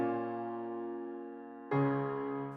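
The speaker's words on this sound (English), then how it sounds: "together the true pianos sound like this" A layered True Pianos plugin piano, played softly, sustains one chord and then strikes a second chord that rings out. The tones are clean and quiet, with no voices.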